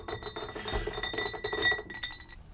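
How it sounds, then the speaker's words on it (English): A small stir bar on a homemade magnetic stir plate spins loose and rattles against a glass vessel, a fast run of bright clinks and chattering taps that fades near the end. "As soon as you go any faster, and you see what happens, it just flies off."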